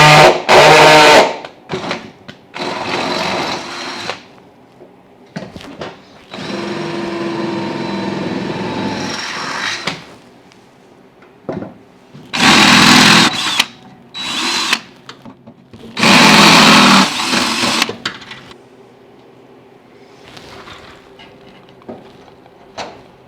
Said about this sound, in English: we're gonna drill the holes through these nuts now